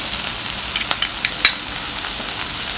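Hing and green chilies frying in hot oil for moong dal paratha filling, a steady close sizzle with brief crackling pops scattered across it, no voices.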